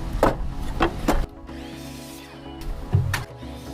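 A table saw cuts the ends off reclaimed pallet wood boards, giving several short, loud bursts of blade noise with a steady motor hum between the cuts.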